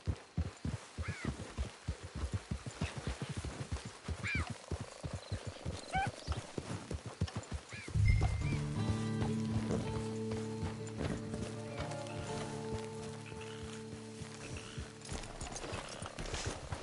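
Hooves clip-clop in a steady, rhythmic trot on hard ground, then a deep droning tone swells in and continues while the hoofbeats fade under it.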